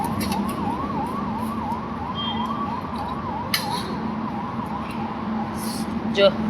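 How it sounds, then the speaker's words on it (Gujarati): An ambulance siren wails in a steady rising-and-falling pattern, moderately distant, over a constant background hum with a few brief clicks, in Haridwar. "જો એમ્બ્યુલન્સ નો અવાજ આવ્યો ને"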